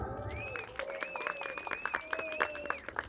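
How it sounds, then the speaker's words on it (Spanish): An audience claps at a village cultural festival honouring the Santa Cruz, with quiet, scattered applause heard under a sustained whistling tone and some voices. "vamos a pedir aplauso por orden como se fueron presentando"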